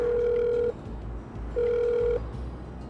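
Two steady electronic telephone tones about a second apart, each held for roughly half a second, clear and even over faint background hiss.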